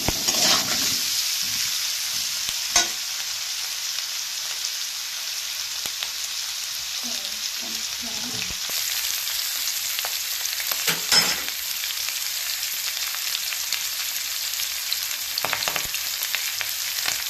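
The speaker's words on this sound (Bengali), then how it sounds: "আলুগুলো ভাজা হয়ে গেছে, এবার আমি নামিয়ে নেব" Steady frying sizzle of potatoes in a pan, a constant hiss with occasional louder crackles and a few soft scraping stirs.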